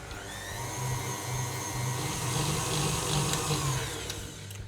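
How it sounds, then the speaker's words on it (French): Electric mixer whisking meringue for a mint-chocolate entremet, a steady whirring motor hum that runs on evenly, then fades slightly toward the end. "Maintenant, j'arrête le batteur et je retire le fouet."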